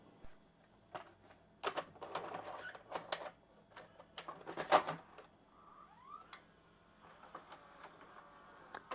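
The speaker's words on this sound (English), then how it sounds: "as soon as you put the tape in, it threads it" An LG RC199H VCR combo mechanism loading and threading a tape: a busy sequence of faint clicks, whirs and clattering mechanical ticks, with motor hum and a brief rising whine partway through.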